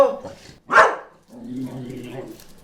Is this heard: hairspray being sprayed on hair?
no